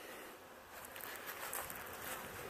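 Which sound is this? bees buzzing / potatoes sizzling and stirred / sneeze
bees buzzing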